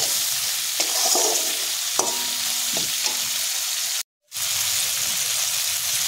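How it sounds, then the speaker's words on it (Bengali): Prawns fry lightly in hot oil with turmeric and salt, a steady close sizzle broken by occasional stirring scrapes and a brief dropout near the end. "মাছগুলো একটু হালকা হালকা করে ভেজে নেব।"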